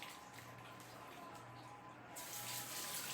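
Running tap water splashes steadily into a sink while hands are washed, a continuous hiss that swells louder near the end, with no talking.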